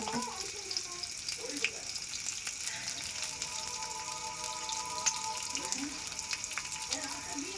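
Small onions frying in a pan for thuvaram paruppu sadham, a steady close sizzle and crackle that holds throughout with a few faint clinks and scrapes of a spoon.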